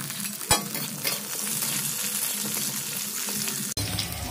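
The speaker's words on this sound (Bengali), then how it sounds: "পেঁপের সাথে আমি গাজরগুলো ভেজে নেব।" Carrots and papaya frying together in oil for a Bengali shukto: a continuous close sizzle with soft stirring scrapes and a couple of sharp clicks, no voices.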